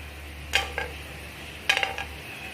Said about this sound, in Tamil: இப்போது அதே எண்ணெயில் நான் கொஞ்சம் கேஷ்யூ போட்டு ஃப்ரை பண்ணிக்கிறேன்.